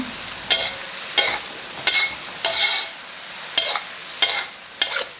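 Pork liver stir-fried with sweet peppers and sliced green onion, the spatula scraping and tossing in a hot pan in about nine regular bursts over a low sizzle, close and clear with no talking.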